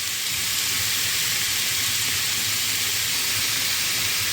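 Chicken escalope cooking in a pan, giving off a steady, loud hissing sizzle that stays even and unbroken throughout with no voices.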